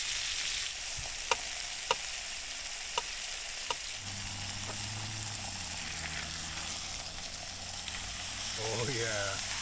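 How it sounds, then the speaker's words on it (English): Steady sizzling of steak searing in a pan with rosemary, butter and garlic at a boondocking camp, broken by a few sharp taps early on and a low hum and speech-like tones near the end. "I sear it 2 minutes on each side."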